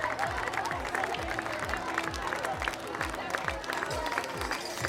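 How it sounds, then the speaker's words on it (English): Parents outside a school at the start of the sixth-grade year cheer and applaud as children arrive at the building, a dense, steady crowd roar of clapping and shouts, with some rhythmic low thumps underneath. "The parents have come out to cheer and support kids and getting in the building"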